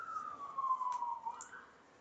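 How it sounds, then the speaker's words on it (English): Emergency vehicle siren passing through South London, a single wailing tone sliding down then rising again at moderate distance, with faint background noise and no talk. "Another siren."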